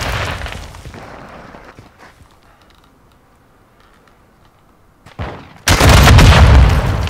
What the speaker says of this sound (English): he popped out of nowhere and shot me with a rocket launcher